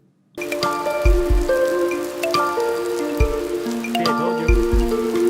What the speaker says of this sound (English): I waited the longest time for the rain to clear out, but I had no luck